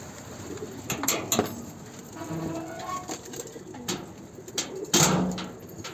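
A male pigeon coos in low throaty bursts while attacking other birds in a coop, with wing flaps and scuffling knocks between the calls, close by.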